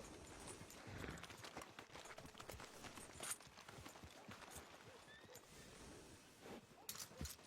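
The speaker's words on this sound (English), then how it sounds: "Are you gonna mount that new horse of yours or not?" Neighing of a horse in Red Dead Redemption 2, set within a dense bed of ambient outdoor game noise and hoof movement, moderately loud and continuous throughout.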